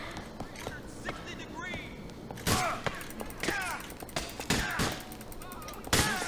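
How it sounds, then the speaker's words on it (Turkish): Gunfire in the video game GTA IV: several sharp, loud shots crack out at irregular intervals in the second half, over a busy game soundscape with a voice in the background. "Şu an bana sıkıyorlar."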